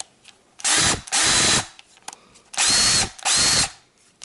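A Craftsman cordless drill whirs in four short bursts, two quick pairs with brief pauses between, loud and close.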